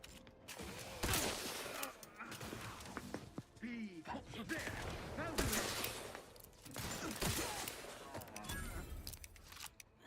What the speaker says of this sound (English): Shooting rifle.